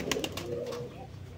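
Pigeons on a rooftop coop cooing softly in a few repeated low calls, close by, with a faint background hum and no talking.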